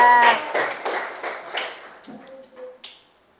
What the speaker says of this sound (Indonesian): Kasih tepuk tangan untuk Rada dulu.